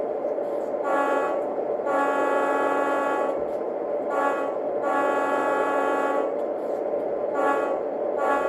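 Train horn blasts from the Train Sim World video game sound in several separated bursts over a continuous rumbling locomotive engine, loud and close.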